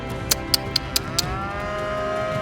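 A water buffalo in a swamp pasture gives a long, low moo that holds steady for a couple of seconds, close and clear, with a few sharp clicks near the start.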